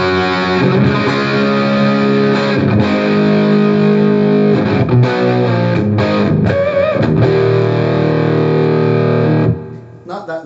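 An all-rosewood electric guitar runs through an Eleven Rack with a crunchy, moderate rock distortion, playing loud sustained chords and riffs for about nine seconds before ringing out, with no voices.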